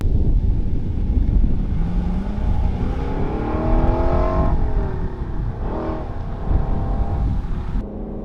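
A 2022 Lexus LC500 V8 accelerates hard, its engine note climbing through rising revs with a gear change midway and another surge, mixed with wind buffeting on the microphone.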